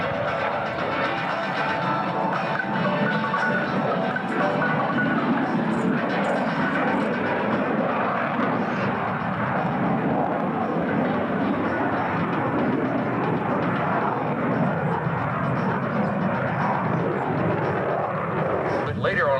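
A CF-18 Hornet jet flying at an air show: a continuous broad roar of jet engine noise at steady loudness throughout, with no distinct breaks.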